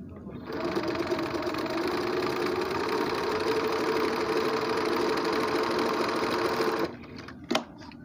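A Riccar sewing machine runs a thick, strong seam for pants or jeans, a steady, close mechanical whirr held for about six seconds before it stops, followed by a single click.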